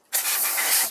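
Compressed air duster blasting dust out of a computer during an SSD install: one steady, loud, close hiss that lasts about a second and then stops.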